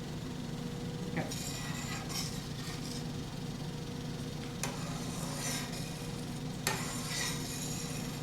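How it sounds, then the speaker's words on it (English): Mushroom gravy with red wine and fresh thyme sprigs simmers and bubbles quietly in a pan, soft steady sizzle with occasional scraping stirs and light utensil clinks, no talking. "Now we've got our mushroom gravy all bubbling"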